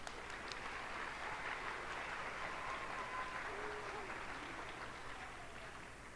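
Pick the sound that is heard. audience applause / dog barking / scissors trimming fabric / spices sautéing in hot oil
audience applause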